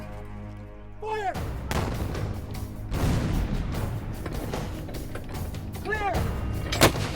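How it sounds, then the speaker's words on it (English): Civil War artillery cannon fire during the siege of Vicksburg: heavy booming blasts rolling on after a sharp opening shot, with rumbling echoes, crashes and a shouted command heard over the barrage. "The earth shook as the artillery pounded the Confederates."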